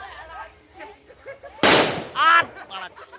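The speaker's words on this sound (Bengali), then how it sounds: "ওইখানে একটা বোম ফাটছে" A firecracker bomb bursts during outdoor Kali Puja fireworks: one sudden loud bang with a crackling tail, followed by people talking loudly nearby before and after.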